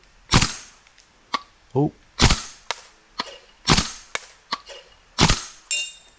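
A $2,700 airsoft rifle firing single shots, sharp loud cracks spaced about a second apart, seven or eight in all, with a brief exclamation among them.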